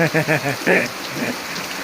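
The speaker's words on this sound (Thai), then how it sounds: "แล้วก็ฝนก็เริ่มมาอีกแล้ว" Rain falls steadily as a broad, even hiss on a farm, with someone talking over it near the start before the steady patter carries on alone.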